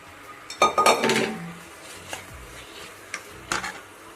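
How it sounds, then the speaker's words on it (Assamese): Small chickpeas poured into a hot pan for Assamese ghugni, a quick rattling clatter of grains and metal followed by soft sizzling and a few scattered clinks. "অলপ বুটখিনি ঢালি দিছোঁ"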